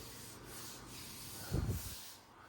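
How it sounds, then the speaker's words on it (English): A guide coat being sanded down by hand, a steady close rubbing scrape that swells briefly into a louder grinding stroke near the end, with no voices. "and I'll sand this down"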